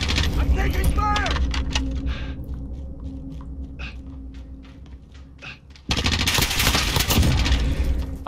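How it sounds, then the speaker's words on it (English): Automatic gunfire in a free-for-all shooter match, rapid close bursts of shots with a quieter stretch of scattered pops, then heavy firing bursting back in loudly, with a voice speaking over it. "I'm taking fire!"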